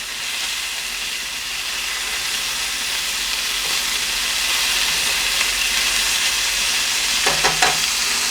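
Bangers (sausages) sizzle steadily and loudly in a frying pan, a dense hissing crackle with a few small pops near the end.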